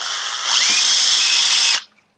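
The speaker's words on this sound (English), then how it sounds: "now I'm going to take my 3/16 drill bit. I'm only going to drill out one of the wing bottom holes." A power drill with a 3/16 drill bit opens out a wing bottom hole on a 1/6 scale Nieuport 17 model, a loud, steady close whine that runs nearly two seconds and then cuts off abruptly into silence.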